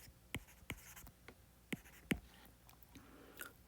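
Pen writing on paper during a physics lesson on hydrogen spectral series: a few separate scratchy strokes and taps, close and fairly quiet, with no talking.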